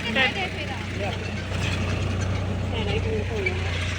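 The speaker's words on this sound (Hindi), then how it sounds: "मामू चला रहे हैं ट्रैक्टर।" A tractor engine running at a steady low idle on a farm during sowing of wheat, barley and berseem, a constant low hum under nearby talk.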